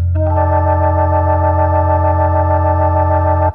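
A sustained Hammond H3 organ chord, emulated on a stage keyboard, with a buzzy, harmonically rich tone held steadily for a few seconds before cutting off abruptly.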